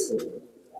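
A nesting pigeon lets out a short, soft, low coo at close range, a brief throaty murmur that fades away within a second.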